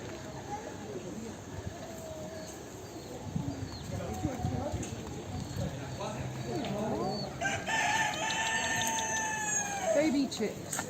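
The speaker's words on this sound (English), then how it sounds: "Baby chicks." Chickens with baby chicks at Gibraltar's old city walls, clucking and peeping steadily at close range amid outdoor background noise, with people talking over them.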